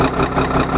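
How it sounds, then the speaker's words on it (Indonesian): Forklift engine idling with a steady, close, rumbling drone and a slight pulsing vibration, heard briefly and without talk. "dan kita start ya engine-nya"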